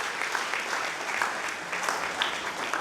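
A church congregation at a Christmas service claps together in sustained, lively applause, a dense crowd of hands at steady loudness for a few seconds.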